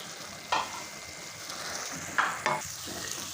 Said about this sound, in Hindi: अब मैं इसके अंदर 2 कप सेवइयाँ ये ऐड करूँगा। इसको यहाँ पे अच्छी तरह से मिक्स कर लूँगा।